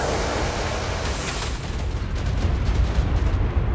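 A missile in the video game ARK Survival Evolved fires or explodes with a broad roaring blast that swells and rumbles low, loud and sustained with no talking over it.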